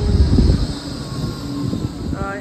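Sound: tram

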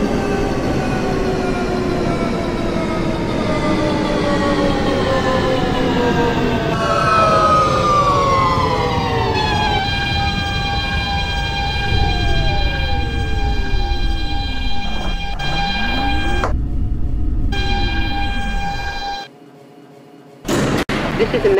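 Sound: R160 subway train running, from the video game OpenBVE

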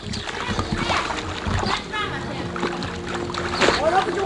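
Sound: child swimming and splashing in a backyard pool

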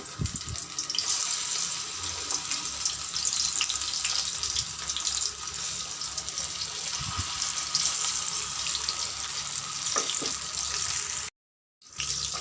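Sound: mourala fish fritters frying in hot oil

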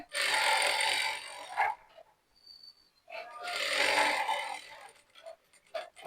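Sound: sewing machine stitching fabric edge

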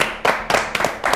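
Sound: applause for a spelling competition contestant

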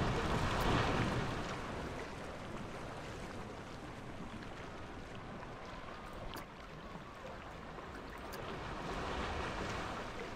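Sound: water on a ride in Planet Coaster video game

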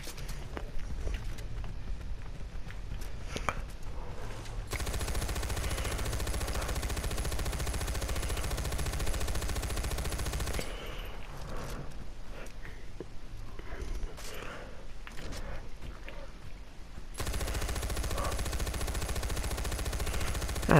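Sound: gunfire in video game Far Cry 4

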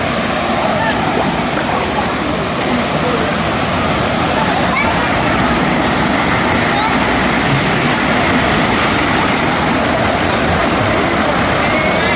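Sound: waterfall

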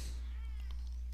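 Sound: cat meowing

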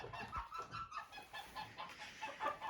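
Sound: chicks and chickens clucking in a coop

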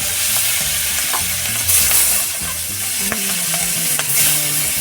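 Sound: pangas fish frying in hot oil

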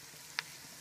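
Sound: ginger and garlic sizzling in pan for chicken curry

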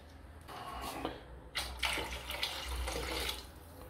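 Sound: pouring water into potato soup pot

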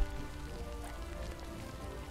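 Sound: rain falling in the video game Quench

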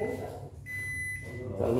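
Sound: JGC pressure induction rice cooker button beeps

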